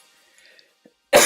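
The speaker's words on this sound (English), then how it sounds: "my apologies for me coughing throughout stream" A single short, sharp cough bursts out loudly at the very end after near silence, preceded by faint breathy sounds.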